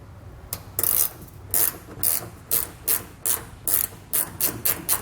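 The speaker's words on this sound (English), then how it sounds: "we'll use that included Torx bit, and we're just going to pull all 3 of those out" A Torx bit in a ratcheting tool backing out wheel liner bolts behind the tire of a 2019 Chevrolet, close, crisp clicking bursts repeating about a dozen times in a quick, uneven rhythm with no talk.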